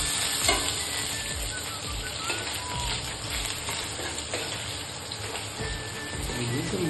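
Potato fry (aloo fry) being stirred in a pan, continuous close sizzling with repeated scraping and clinking of the spoon against the pan, faint speech in the background.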